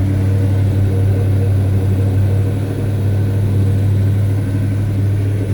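A 1984 Chevy C10 truck engine idling steadily after a cold start following weeks of sitting, with a loud, constant low hum and no revving, close by.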